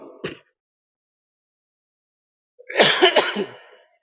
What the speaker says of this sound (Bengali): কাশিটা যখন উঠছে ভাই, খুব কষ্ট পেয়েছি।